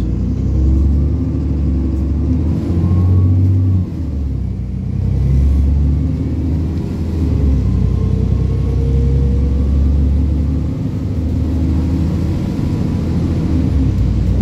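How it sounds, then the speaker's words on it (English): Deep, loud Stagecoach East Midlands double-decker bus engine rumbling and revving as the bus pulls away in Scunthorpe, low drone with shifting gears throughout. "It sounds fantastic as the bus moves forward."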